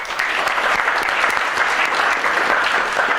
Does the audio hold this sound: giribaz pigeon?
no